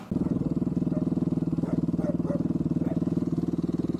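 A motorcycle running close by, its engine giving a steady rapid low pulsing thrum with no talk over it.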